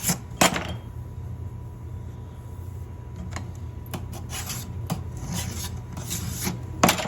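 A file scrapes along the length of a chainsaw guide bar on a workbench to remove the burr, a steady rasping rub close up with occasional sharper knocks.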